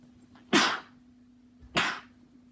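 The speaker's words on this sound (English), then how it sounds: "Excuse me, sneeze o'clock." Two sharp sneezes, close and loud, roughly a second apart, each a short explosive burst over a quiet background hum.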